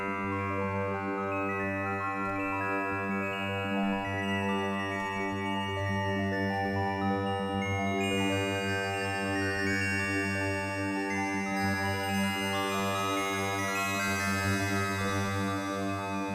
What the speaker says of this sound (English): so there's your distortion